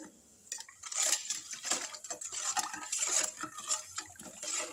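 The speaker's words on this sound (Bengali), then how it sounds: "এবার ভালো করে আমি মিক্সড করে নেব এইভাবে।" A spoon stirs salted Rasna fruit drink in a glass, clinking and scraping against the sides in quick, light, irregular strokes, close and fairly quiet with no talking.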